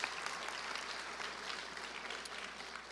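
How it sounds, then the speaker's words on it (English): Audience applause at an event during Michelle Obama's Mississippi visit, a faint, steady wash of many hands clapping together, heard from a distance with no clear voices. "we got to give him a round of applause"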